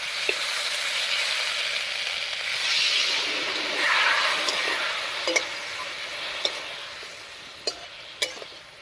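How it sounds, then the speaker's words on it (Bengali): Potatoes cooking with ground spice paste, cumin paste and water in a covered pan, giving a steady close sizzle and bubbling throughout, with a few sharp clinks near the end and no talking. "এবারে মশলা বাটা জল দিয়ে খুব ভালো করে ঢাকা দিয়ে দিয়ে কষিয়ে নিব"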